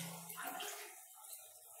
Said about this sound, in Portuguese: Vou dar uma descarga.